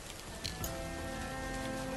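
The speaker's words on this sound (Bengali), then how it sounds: "বাইরে কি বৃষ্টি হচ্ছে দেখো।" Rain falls outside as a soft, steady hiss of drops, faint and unbroken throughout, with no voices over it.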